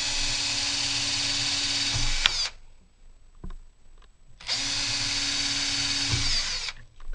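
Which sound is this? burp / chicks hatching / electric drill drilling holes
electric drill drilling holes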